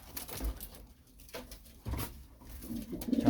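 Pigeons coo in short repeated bursts close by, with soft low murmuring calls rising toward the end amid a faint outdoor background.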